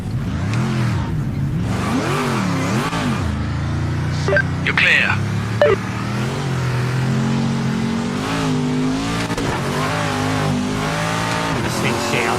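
A stock Corvette race car engine in Project Motor Racing, a racing video game, revving and shifting up and down through gears with some tire squeal, loud and continuous while someone talks over it.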